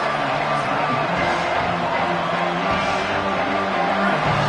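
A stadium crowd in an American football video game roars steadily as the defense holds in the red zone, a dense, loud wash of cheering with scattered whoops and no clear speech.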